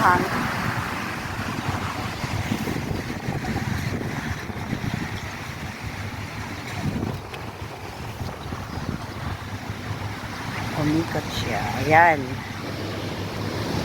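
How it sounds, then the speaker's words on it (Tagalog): Strong wind buffets the microphone up high on a cloudy day, a continuous rumbling roar under people talking nearby. "Lakas ng hangin."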